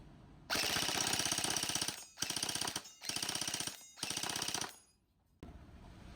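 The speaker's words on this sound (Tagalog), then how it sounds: "So, firing full auto." A Jingji SLR V4 toy gel blaster fitted with a Tracer Pro unit fires full auto in several rapid, loud bursts of closely spaced shots, with short gaps between bursts and a brief pause near the end.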